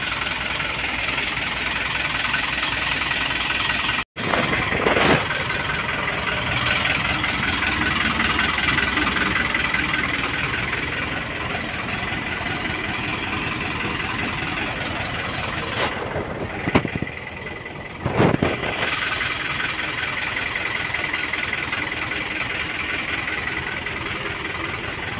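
A Karunia Bakti bus with a Hino RK engine idles nearby in a steady, rumbling drone with a faint knocking texture, broken by a couple of brief clunks and dropouts.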